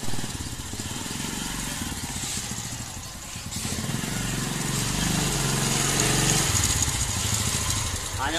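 A motorcycle engine runs steadily while the bike is wheeled indoors at a home, a continuous close idling drone that rises slightly toward the end, with faint voices.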